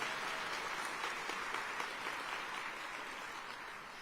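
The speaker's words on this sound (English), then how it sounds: "let's give it up one more time for all the council members here tonight" An audience at a State of the City event applauds for the council members, a steady, dense wash of clapping that stays loud throughout and tapers only slightly at the end.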